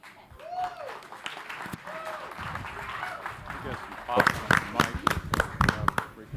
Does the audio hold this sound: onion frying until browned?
no